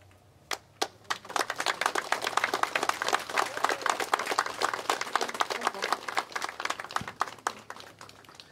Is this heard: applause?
yes